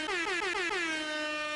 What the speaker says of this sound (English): And an air horn.